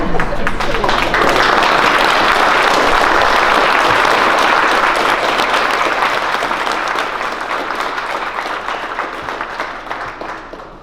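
Audience applause at a 2019 air cadets annual review in Shelburne, Ontario: sustained, dense clapping from a large crowd for about ten seconds, loud and steady before gradually thinning toward the end.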